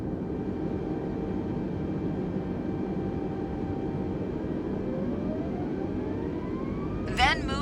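Twin jet engines of an Airbus A320 in Microsoft Flight Simulator 2020 spooling up for takeoff, a steady rumbling whine with tones slowly rising in pitch, no talk.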